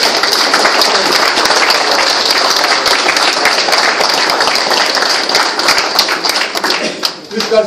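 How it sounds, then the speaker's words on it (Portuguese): A Guinea reunion gathering's audience claps in sustained, dense applause that stays loud and steady throughout, thinning briefly near the end before swelling again. "eu peço uma grande salva de palmas"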